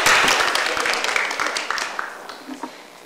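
Audience at a women's science sustainability week event applauding presenters, a burst of dense clapping that starts loud and gradually thins and fades into scattered claps.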